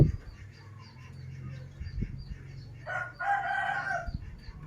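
A broody hen clucks softly and nearby, then a rooster crows one loud, drawn-out cock-a-doodle-doo on a backyard farm.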